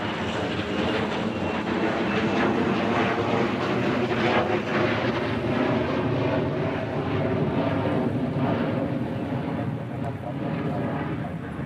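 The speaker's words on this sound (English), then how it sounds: "But it is a local Hickam-based C-17." A Hickam-based C-17 military transport aircraft flies over Hawaii, its engines producing a loud, steady broadband roar that holds for the whole stretch, with faint voices underneath.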